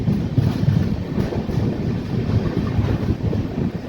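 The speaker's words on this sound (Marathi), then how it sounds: "एकदम जबरदस्त स्पीडने मित्रांनो आपली ट्रेन जी आहे ती हिंगोली येथून डिपार्चर होत आहे" Aboard the Bhagat Ki Kothi Express gathering speed away from Hingoli, a loud continuous rumble of the moving carriages mixes with gusting wind noise, with no voices.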